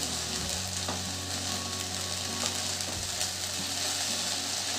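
Sweet sabudana khichdi with jaggery and dry ginger powder stirred in a pan, a steady close sizzle with scraping of the spoon against the pan, no talking.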